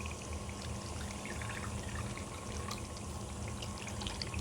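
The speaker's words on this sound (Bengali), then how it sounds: "এবার আমি জল দিয়ে দেব।" Water is poured from a bowl into a pot of chicken and potato curry, a steady full rushing pour lasting throughout with no speech.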